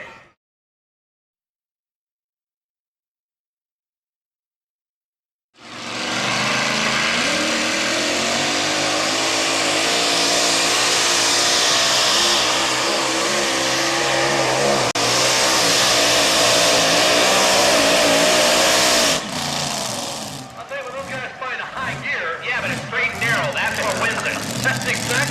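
A pulling truck's engine roars at full throttle without letting off, a loud sustained bellow starting after several seconds of silence and holding steady for about fifteen seconds before breaking into choppier, fluttering revs.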